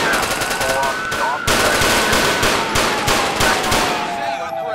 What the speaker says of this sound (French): Coup de feu, coup de feu, coup de feu!